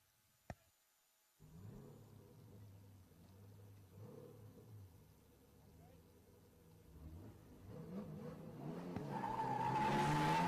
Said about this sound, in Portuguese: Gonçalo tira o carro para a primeira drift zone, Leandro vem logo atrás a tentar encurtar a distância